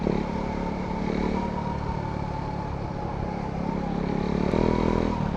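A KTM Duke motorcycle ridden on a road, its engine drone steady and moderately loud throughout, with a slight rise near the end.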